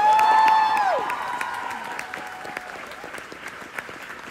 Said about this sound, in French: merci d'applaudir très fort, s'il vous plaît